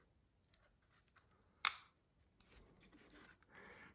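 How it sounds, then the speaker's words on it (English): Leatherman Free P4 multitool scissors handled indoors: one sharp, loud metallic snap near the middle, with a few faint clicks before it and light handling rustle afterward. "And the scissors is also a lock blade."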